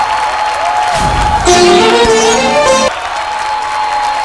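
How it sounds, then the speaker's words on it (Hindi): A studio audience at a Bhojpuri dance competition show applauds to welcome a dancer, loud dense clapping and crowd noise with a brief musical tone sweeping through the middle. "जोरदार ताली से स्वागत करें"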